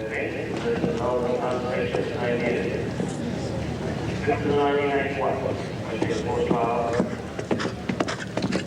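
A horse gallops over a double of show jumping fences at a 1983 horse trials. Rhythmic hoofbeats thud steadily beneath continuous commentary from a man.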